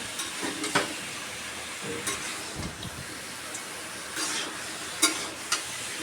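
Ash gourd being stirred with spices in a frying pan for a prawn dish, soft sizzling under repeated scraping and clinking spoon strokes at an uneven rhythm.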